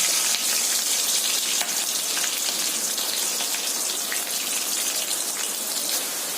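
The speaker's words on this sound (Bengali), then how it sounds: "তেল গরম হয়ে গেছে, চিংড়িগুলো দিয়ে দিলাম।" Prawns fry in hot oil in a wok, giving a steady, loud, close crackling sizzle that carries on without pause and with no talking.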